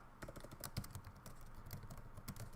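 Keys tapped on a computer keyboard while notes are typed into MATLAB, a quick, uneven patter of faint, close clicks with no talking.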